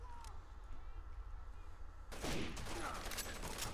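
Sniper rifle gunfire rings out in the shooter game Rainbow Six: Vegas 2, a loud shot followed by booming echo and rumbling battle noise.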